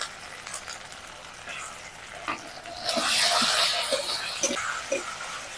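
Cashews, raisins and ginger-garlic paste fry in a pan for white pulao, giving a soft, steady sizzle that swells louder midway, with faint stirring clicks scattered throughout.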